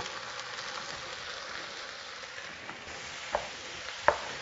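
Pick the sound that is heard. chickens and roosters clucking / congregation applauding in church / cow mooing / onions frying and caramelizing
onions frying and caramelizing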